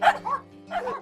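A dog gives two short barks in a row, the second a little softer, each followed by a brief whimpering tail, heard alone with no talk over them.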